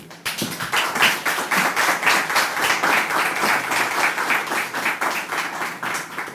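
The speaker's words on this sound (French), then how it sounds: "Je pense que ces applaudissements sont mérités" Audience applause at a visit to the Cnam incubator, steady sustained clapping from a crowd with a regular pulsing rhythm, loud and close, no talk.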